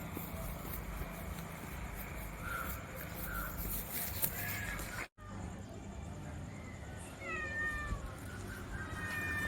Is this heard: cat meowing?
yes